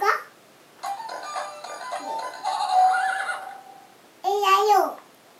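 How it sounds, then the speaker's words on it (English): Horse neighing in an animal-sound identification game, heard as a toy or recorded whinny in two distinct bursts: a longer wavering call followed by a short, higher trailing neigh, clear and close, with brief voices around it. "A horse."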